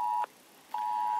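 A smartphone sounds a test emergency alert, a loud steady electronic tone that cuts out briefly and then returns, heard close over faint wind from a coastal wind farm.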